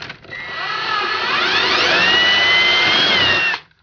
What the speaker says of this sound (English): And just drill through.